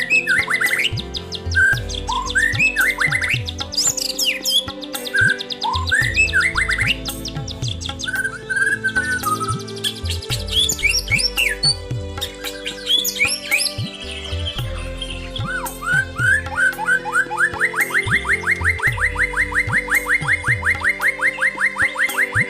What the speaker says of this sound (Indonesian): Video kali ini adalah tentang variasi ocehan burung murai batu